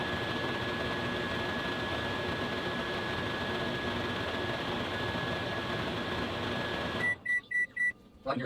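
A microwave oven runs with a steady loud whir and hum holding a thin electrical whine, then cuts off and gives a short series of beeps near the end.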